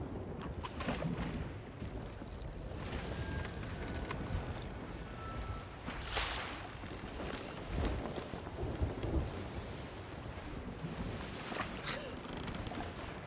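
Heavy rain pours steadily onto a wooden ship in the Sea of Thieves video game, with several loud thunder cracks and rumbles breaking through the dense hiss.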